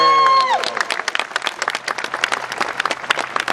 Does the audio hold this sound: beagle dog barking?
no